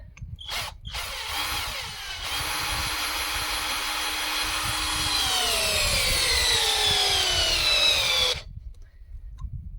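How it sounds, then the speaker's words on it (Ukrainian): A cordless screwdriver rated at 40 Nm drives a screw, a loud steady motor whine that climbs in pitch and strains for about six seconds before cutting off abruptly, with a brief start-up burst at the beginning. "як буде крутити ось цей шурупокрут на 40 Нм порівняно з Ронікс на 35. Той же самий гвинт"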